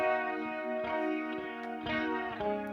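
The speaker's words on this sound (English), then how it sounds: "So it's just fantastic that UAD incorporated that here. And it's a huge part of Bob Rock's guitar tones" Electric guitar tone run through a UAD chorus strip effect in the style of Bob Rock's sound, sustained distorted chords with a shimmering, modulated wash, steady and fairly loud with no talking.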